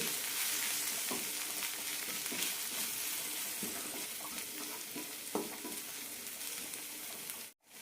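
Garam masala and other ground spices roast in a hot pan for soya chunk uthappam: a soft, continuous sizzle with scattered scrapes and taps of stirring, then an abrupt cutoff at the end.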